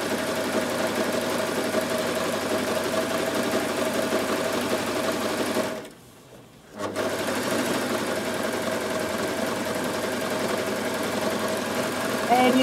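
Bernette b62 coverstitch machine sewing, a steady close mechanical whir with rapid needle rhythm, briefly stopping for a second before resuming.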